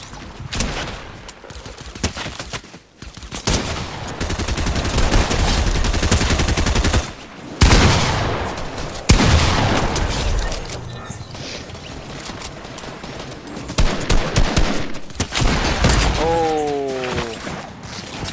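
Gunfire from a weapon in Fortnite, a run of quick shots and heavy bursts spread through the stretch, with loud surges and quieter gaps and some talk mixed in.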